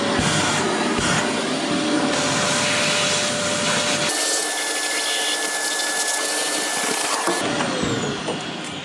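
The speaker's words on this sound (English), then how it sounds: "It's also very important that when you switch on a hoover," Hoover switched on to suck dust out of freshly drilled holes during an AV monitor installation, a steady loud motor whine and rushing airflow that shifts pitch midway as the nozzle seals against the wall, then opens again.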